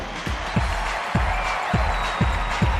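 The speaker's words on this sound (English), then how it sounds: "And the crowd goes wild." A crowd at the Miss Universe 2006 pageant cheers and applauds for Miss Brazil, a loud continuous roar with rhythmic thumps underneath and some voices mixed in.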